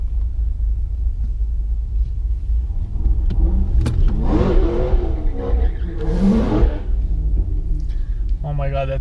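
Corvette ZR1 launching down a quarter-mile drag strip, a deep engine rumble that rises into a roaring acceleration pass heard from nearby, with people talking and exclaiming over it.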